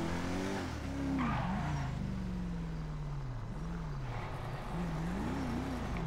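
Car in GTA 5 Online driving with a wavering engine note that rises and falls, joined by tire skids and squeals, fairly close and continuous, with no talking.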